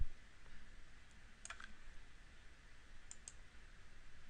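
A computer mouse clicks a few times in a quiet room: two or three crisp, close, separate clicks about a second and a half apart over a faint steady hum.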